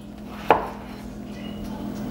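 A knife slices through plantains with a single crisp cut against a board, followed by a faint background hum.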